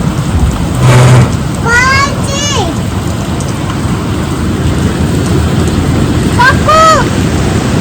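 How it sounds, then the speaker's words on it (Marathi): Steady rain hisses throughout, with voices talking briefly over it and a couple of short tonal chirps in between. "चांगला पाऊस यायला लागलाय सगळीकडे"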